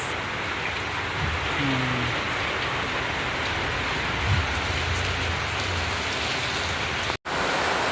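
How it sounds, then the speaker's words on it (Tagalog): Heavy rain in the Philippines pours steadily, a dense hiss of drops drumming on surfaces, loud and unbroken, with a faint voice murmuring briefly underneath. "Lakas na ulan."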